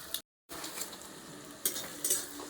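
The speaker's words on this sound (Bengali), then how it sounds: "আর আমি পেঁয়াজটা এখন ভেজে নিচ্ছি মাংসে।" Onions frying with meat in a pan at an outdoor night picnic in the cold, a soft steady sizzle with a few brief stirring scrapes close by and no talking.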